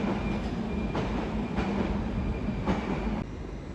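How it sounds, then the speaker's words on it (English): A delayed Great Western Railway train bound for Great Malvern sits at a London terminus with a steady rumble. Regular clicks of wheels crossing rail joints come at roughly half-second intervals, loud and close, with no voices. "Soon to depart, about 15 minutes late roughly, will be the delayed 1349 Great Western Railway service to Great Malvern."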